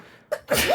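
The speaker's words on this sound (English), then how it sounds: "after those sneezes" A person sneezes in two quick bursts, a short sharp one followed by a fuller, louder explosive sneeze, close and alone.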